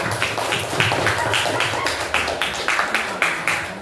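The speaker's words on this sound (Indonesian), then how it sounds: "kita kasih tepuk tangan satu lagi gitu lah, Mas" Classroom applause, a steady run of rhythmic group clapping, fairly close, with a voice speaking over part of it.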